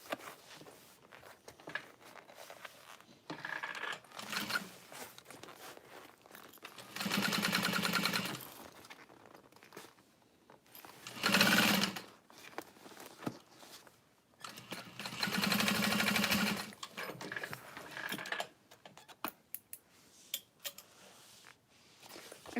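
Sewing machine stitching a tiny Snow Drop bag, running in three loud bursts of steady whirring separated by quieter handling and fabric maneuvering.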